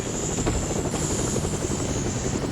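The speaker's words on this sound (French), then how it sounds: "Sauf qu'il me casse les couilles cet hélico là, je vais devoir le prendre." Helicopter rotor and engine drone from a video game shooter, a steady loud whirring wash that fills the short stretch without any talk.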